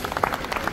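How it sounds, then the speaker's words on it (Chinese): A brief patter of hand clapping from an audience at a leadership training event in Poland, moderate in level, with a few scattered claps standing out. "那么也给周丽一个掌声"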